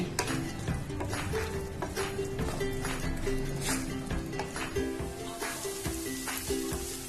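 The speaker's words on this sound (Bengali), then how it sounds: "এবার এগুলোকে ভালো করে কষিয়ে নেব যতক্ষণ না তেলটা রিলিজ করছে।" Turmeric and Kashmiri red chili powder fry in a little oil in a pan for chicken kosha, a steady close sizzle with occasional scraping stirs and clinks of a utensil against the pan, soft background music underneath.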